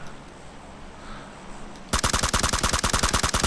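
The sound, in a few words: gunfire in video game PUBG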